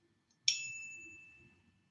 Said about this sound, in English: That's my little bike bell I put in my mountain bike sometimes.